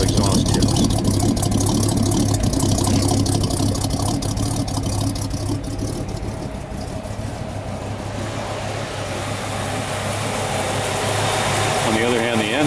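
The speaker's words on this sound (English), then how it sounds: "Got a pretty nasty exhaust note here from these rectangular stainless steel exhaust tips." A 1936 Chevrolet pickup engine runs steadily, its harsh, nasty exhaust note rumbling out of rectangular stainless steel exhaust tips. The sound is loud and close and continues throughout, with talking over it.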